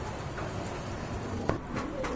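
Pigeons coo softly amid a noisy bird market, low murmuring calls blended into a dense, steady background with a sharp click near the middle.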